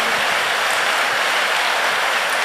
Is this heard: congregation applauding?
yes